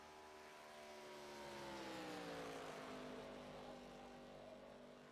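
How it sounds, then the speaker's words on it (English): NASCAR Gen 4 race cars at Daytona, heard faintly as a sustained engine drone with harmonic tones sliding downward as the cars pass, slowly swelling and fading with no talk. "Let's get you some sound here for the cars"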